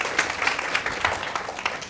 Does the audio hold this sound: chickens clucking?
no